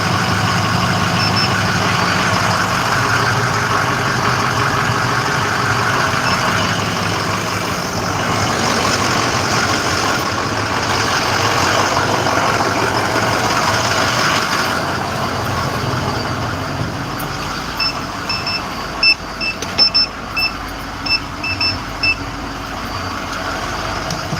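IC CE school bus diesel engine idling steadily nearby, a continuous low rumble throughout, with a few short beeping tones sounding near the end.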